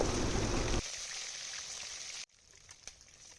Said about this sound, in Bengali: এবার এই তেলের মধ্যে কই মাছগুলোকে আমি ভালোভাবে ভেজে নেব